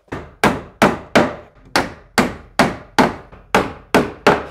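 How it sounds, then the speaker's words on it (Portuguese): A hammer drives small nails into a wooden stair tread board on a staircase landing: about eleven sharp, close blows in a fairly regular rhythm, each ringing briefly before the next strike. "Agora eu posso apregar aqui, ó. Três preguinhos aqui também na lateral."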